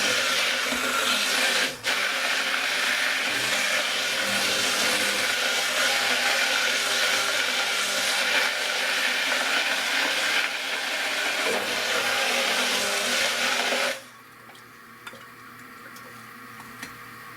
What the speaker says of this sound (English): we get the blender out and bang it out again